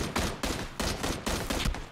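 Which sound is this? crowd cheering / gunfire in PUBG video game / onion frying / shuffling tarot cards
gunfire in PUBG video game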